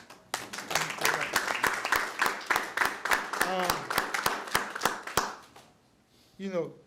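A burst of crowd applause at a criminal justice roundtable, with rapid, dense clapping that thins out after about five seconds, ending with a brief spoken voice.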